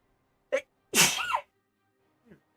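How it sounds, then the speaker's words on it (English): A single close, loud human sneeze bursts out after a quick sharp inhale, followed by a faint sniff or murmur, in an otherwise quiet room. "just let the sneeze out"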